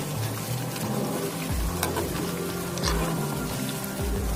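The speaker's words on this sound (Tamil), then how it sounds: "இந்த கொப்பளிக்கிறதெல்லாம் நிக்கிற வரையும் நல்லா காய விடணும்." Herbal hair oil heats in a pan, its continuous bubbling and crackling carrying on steadily with small pops scattered throughout, close by and fairly loud.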